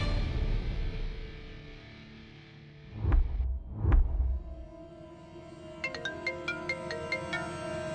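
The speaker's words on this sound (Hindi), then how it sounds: "अबीर का फोन।" A phone ringtone plays in a quiet indoor scene of a Hindi TV drama, starting after two deep swelling tones as a series of short, evenly spaced bright chiming notes over a low hum, with no talk.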